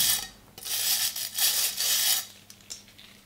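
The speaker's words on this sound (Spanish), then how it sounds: "Y a ver si entre el quitaóxido y un suave cepillado conseguimos sacarlo." A rusty knife blade treated with rust remover is brushed gently, giving a few soft, close scraping strokes of about half a second each, separated by brief pauses and ending in a couple of lighter rubs.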